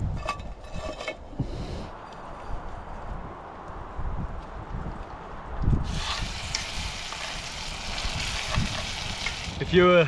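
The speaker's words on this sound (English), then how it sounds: "I'm gonna put a little bit of olive oil, put it on the pan, and then just lightly fry them" Mussel meat fries lightly in olive oil in a pan, a crackling sizzle that brightens and grows louder partway through, with some handling noises close by.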